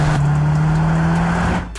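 A new Mercedes C63 four-cylinder hybrid engine drones at a steady, fairly loud pitch for over a second before cutting off abruptly.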